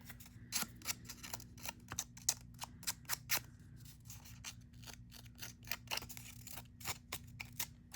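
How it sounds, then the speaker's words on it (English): Scissors snipping through paper while making handmade Valentine cards, a quick irregular series of close, crisp cuts in a quiet room. "kind of use your scissors."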